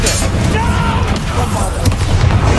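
A Confringo blasting spell explodes in a Hogwarts Legacy fight, a loud, rumbling, crackling blast of booming noise that lasts throughout, with a sharp crack near the end.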